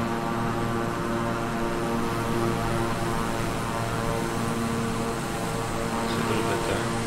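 A Beechcraft 350i King Air twin turboprop cruises in calm weather in Microsoft Flight Simulator, its propeller and engine drone heard as a loud, steady, unbroken hum from inside the cabin.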